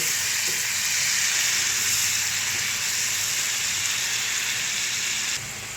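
Water with butter garlic prawns boils in a pan, giving a steady, close hiss and seething that holds evenly for several seconds before cutting off near the end.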